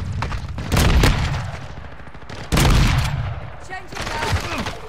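Two loud rifle shots in a video game boom out a couple of seconds apart, each trailing into a rumbling decay, with a further burst of gunfire noise near the end.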